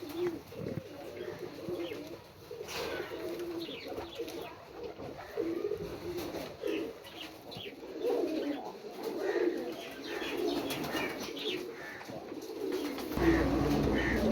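Pigeons coo softly and repeatedly in a busy pigeon farm enclosure, with scattered chirps and faint background voices.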